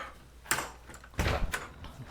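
A screen door slides and bumps in a few quick bursts, a short whoosh followed by a louder rattling knock and a lighter clack, close by with no talking.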